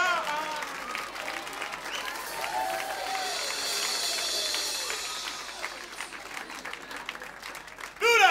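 Concert crowd applauds a singer at a live show, a steady broad wash of clapping and cheering lasting several seconds, with faint voices mixed in and a sudden louder burst at the very end.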